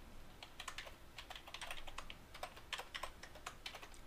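A password is entered on a computer keyboard, a quick run of close, crisp key taps in an uneven rhythm lasting several seconds, faint and alone without talk.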